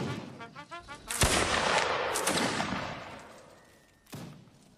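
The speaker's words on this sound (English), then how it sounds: "Oh, brutal fire coming in from these guys." Musket volleys crack out in Mount & Blade Napoleonic Wars during a line battle event: a sharp ragged volley bursts in loud, rolls into a sustained crackle of scattered shots that slowly fades, then a second sharp blast near the end.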